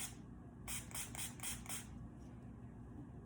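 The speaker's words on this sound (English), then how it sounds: "first thing I do is I spray my roller" A handheld dermaroller, used on the face, is sprayed in about five quick, close hissing bursts of a spray bottle, with quieter handling noise afterward.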